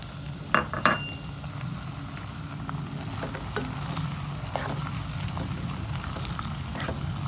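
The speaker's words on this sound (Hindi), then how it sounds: "टमाटर ऐड करने के बाद इसको मैं तकरीबन हाफ मिनट भूनूंगा।" Tomatoes fry in a pan with ginger-garlic paste, steady sizzling and crackling, with a couple of utensil clinks early on and no talking.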